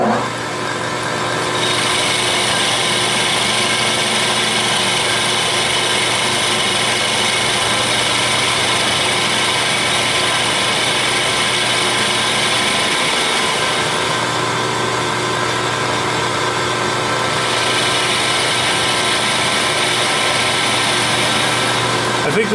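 Metal lathe taking light cutting passes on a steel hydraulic steering bolt, a continuous steady motor whine with faint cutting noise, constant and close, running throughout with only a brief dip midway.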